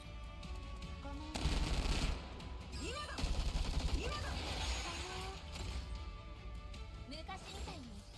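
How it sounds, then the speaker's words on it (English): Automatic weapon fire in the Girls' Frontline Exilium video game during an event battle, with sustained bursts of rapid shots and crashing impacts mixed with voices and game effects. "Let's just keep shooting."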